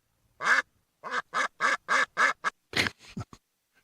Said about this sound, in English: this is an angry lame duck